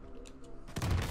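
Gunfire in Call of Duty Modern Warfare multiplayer, an M13 rifle setup: a sharp burst of shots lands near the end, loud and close, after a moment of quieter game ambience.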